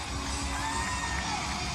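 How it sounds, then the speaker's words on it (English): Concert crowd at a show in Argentina, a faint, distant wash of cheering and shouting voices that holds steady throughout. "Look at that crowd."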